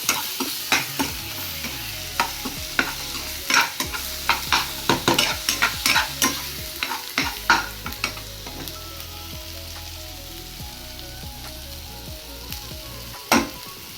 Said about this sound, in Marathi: कांदा मिठ वगैरे चांगलं तेलामध्ये मिसळलं